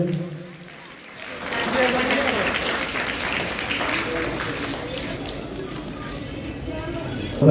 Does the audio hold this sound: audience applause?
yes